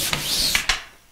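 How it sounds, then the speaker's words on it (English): A brush on a pole sander scrapes across dried joint compound on a mobile home wall, giving a few close, quick raspy strokes with no talk. "So just brush sand it. So do it with a pole real quickly"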